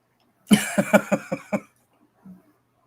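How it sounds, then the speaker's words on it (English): A single harsh cough bursts out in a quick run of five or six hacking pulses, followed by a brief low throat sound, then quiet. "that was a cough because I'm smoking"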